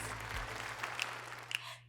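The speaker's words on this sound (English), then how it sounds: "Give yourself a round of applause." A short burst of applause, a crowd clapping briefly at moderate loudness, with a low steady hum underneath, used as a cheering effect in a kids' graphic design lesson.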